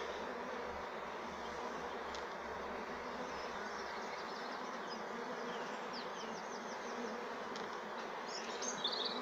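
Swarm of honeybees being hived, a dense continuous buzz of many bees close by with a few individual bees flitting past, steady and alone.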